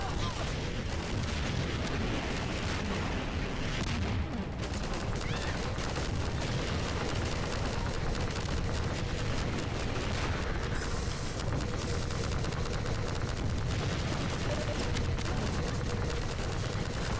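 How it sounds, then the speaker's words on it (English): Rockets and gunfire rage through a firefight in the video game Half-Life 2 Episode 4, a dense, unbroken barrage of blasts and shots that lasts throughout. "people are using their rockets"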